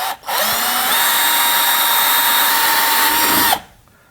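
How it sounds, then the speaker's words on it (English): A power drill bores a pilot hole: a loud, close, steady high whine that starts abruptly, holds for about three seconds, then cuts off, with a brief click before it begins. "Before drilling the hole to the full sides, I usually like to drill a bit of a pilot hole first"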